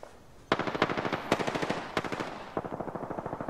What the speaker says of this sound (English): There's a firefight down there somewhere.